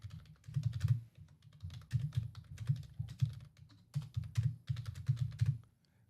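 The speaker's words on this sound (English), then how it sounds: "where am I even typing?" Rapid bursts of typing on a computer keyboard, close and clear, with short pauses between clusters of keystrokes and no talk.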